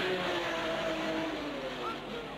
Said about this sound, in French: Pironi Josso remonte eux aussi et ils talonnent la Porsche prise en sandwich entre les deux Renault.